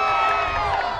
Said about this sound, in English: Homestead fans give kind of a sarcastic cheer on the foul called